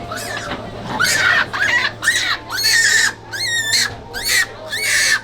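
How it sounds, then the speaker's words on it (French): Monkeys fighting in Japan let out a loud, close series of about seven shrill, wavering screams in quick succession over a low steady hum. "Combat de singes."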